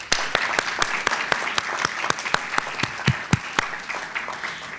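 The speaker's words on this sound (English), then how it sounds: "please join me in a round of applause to recognize and thank the organizers of" Audience applause at a university kickoff event for an assured admissions program, a ragged burst of claps from a modest crowd, individual sharp hand strikes standing out close by.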